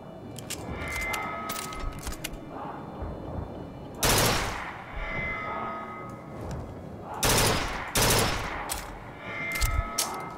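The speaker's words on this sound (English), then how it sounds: "Burst gun." A burst gun fires in Bioshock Infinite, loud rapid volleys of gunfire cracking out at intervals amid ongoing combat noise, with two especially heavy bursts standing out.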